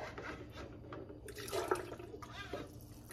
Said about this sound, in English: take some of this water out.